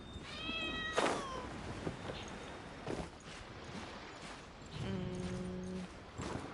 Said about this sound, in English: I hear you, cat.